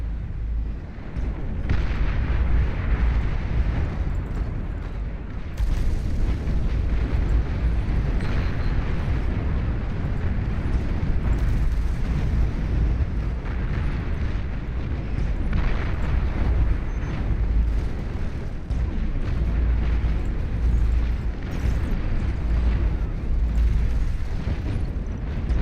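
Dense, continuous rumble of scuttle units exploding in the strategy game Beyond All Reason, with heavy overlapping blasts and booms filling the battlefield at steady loudness, with no speech.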